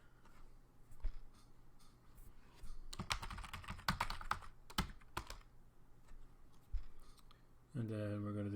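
Typing on a computer keyboard while working in openSUSE's YaST, a quiet run of rapid key clicks with a denser burst in the middle, close, and a voice speaking near the end.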